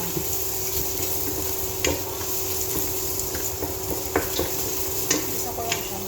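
Carrot sautés in a pan with an even, close sizzle, joined now and then by brief scraping and tapping from stirring.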